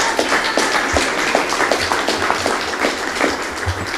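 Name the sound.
round of applause for rec center staff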